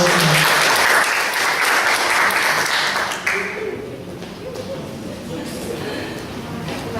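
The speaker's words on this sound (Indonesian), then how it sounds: "juga tepuk tangannya dong" An audience at a small-business waste-recycling workshop claps in a loud sustained burst that fades after a few seconds, with people talking over and after the applause.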